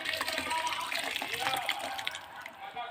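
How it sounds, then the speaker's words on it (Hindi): Water pours steadily into a cooking pan while a leafy bohar bhaji dish is being prepared, a continuous near gush that tapers off near the end, with a person speaking over it. "अब डालबो पानी ला।"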